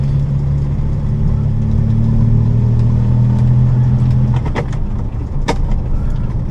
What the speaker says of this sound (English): Second gear, and I'll try and show a gear change without the clutch.